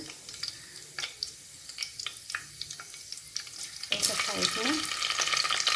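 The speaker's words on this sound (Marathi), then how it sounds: "मोहरी अशा तडतडल्या आहे" Mustard seeds splutter in hot oil as a tempering for a bottle gourd curry, scattered sharp pops over a low hiss, then a sudden louder, dense sizzle takes over.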